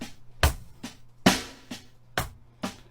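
Slow drum kit groove of a fun pop-punk beat: deep bass drum thumps and crisp hi-hat hits spaced evenly apart, close and unaccompanied.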